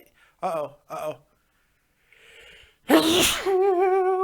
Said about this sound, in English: Epic sneeze!